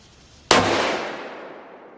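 A single sharp rifle shot from a Henry lever-action or Ruger American Predator at a range, a sudden loud crack followed by a long decaying echo, no talk.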